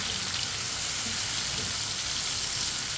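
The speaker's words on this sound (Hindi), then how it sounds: "ऐसे ही चम्मच चलाते हुए सब पकाना, ताकि सब चीज़ें हमारी इस तरह पक जाएं।" Kala chana masala sizzles and fries in a pan as a spoon stirs it, a steady close-up crackle with no talking.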